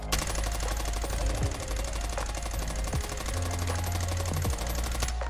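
Rapid automatic gunfire from a video game, sprayed without recoil control, rattles on continuously for about five seconds, dense and loud, with a low droning hum beneath and no talking.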